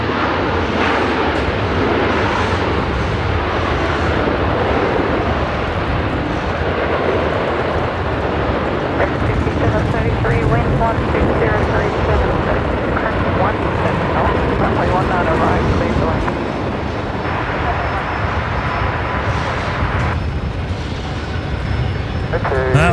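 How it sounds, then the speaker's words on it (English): A Velocity airliner arriving from Sydney rolls along the left runway at Brisbane Airport at night. A broad, steady jet roar rumbles throughout, partly under people talking. "That was Velocity 965, just arrived from Sydney there on runway left."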